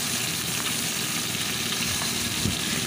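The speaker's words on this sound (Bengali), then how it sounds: "এইভাবেই দুদিকে এই মাছটাকে আমি ভেজে নিচ্ছি।" Bhola fish fries in hot oil in a pan, a dense, steady sizzle that stays constant and fairly loud close up, with a faint low hum beneath and no talking.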